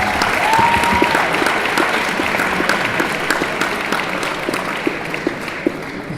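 Wedding guests give a sustained round of applause for the bride's and groom's parents, a dense, steady wash of many hands clapping that stays loud throughout with a few sharper claps near the end.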